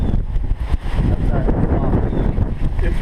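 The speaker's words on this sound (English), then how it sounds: "It's ridiculously windy." Strong, steady wind buffets the microphone outdoors in Florida, a continuous loud low roar with gusty swells and no break across the whole stretch.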